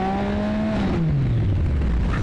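Triumph Speed Triple 1050 motorcycle revving up hard then braking, a loud close engine whine that climbs in pitch and then drops away steadily as it slows.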